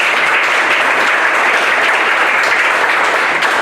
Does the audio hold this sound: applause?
yes